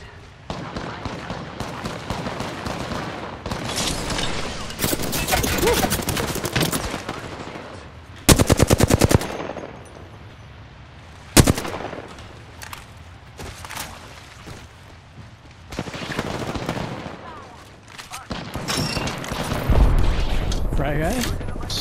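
Machine-gun bursts and single gunshots from a shooting video game, loud and close, with rapid fusillades and booms coming in uneven clusters, while a player talks between and over the shots.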